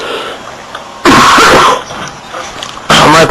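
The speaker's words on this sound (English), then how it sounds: "My apologies about the cough" A commentator at a wrestling broadcast gives two loud, harsh, deep coughs close to the microphone, separated by quieter moments with a faint voice in the background.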